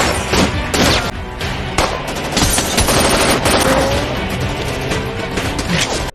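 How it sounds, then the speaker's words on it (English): Dense bursts of rapid gunfire crackle and crash continuously, loud and close, with overlapping shots and impacts. "soon came under heavy gunfire from a small army of men"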